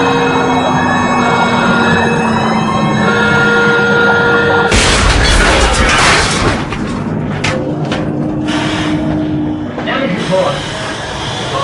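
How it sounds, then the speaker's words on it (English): A simulated depth charge explosion sets off a sudden loud boom that turns into a long rumbling roar, following a steady droning tone, with talk underneath. "The depth charge is going to come in, and there's going to be a very big bang."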